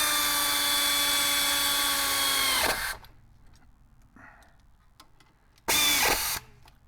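A power tool tightens the brake caliper bolts on a 2007 Ford Taurus, with two loud, close whirring bursts: a long one winding down at the end, then a brief one after a quiet gap.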